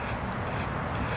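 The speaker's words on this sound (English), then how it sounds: "this wire brush, brass brush, will just get the soft grain that's burnt out of it" A brass wire brush scrubs burnt soft grain out of a green-turned wooden bowl, a dry bristly rasping in quick back-and-forth strokes, close and alone.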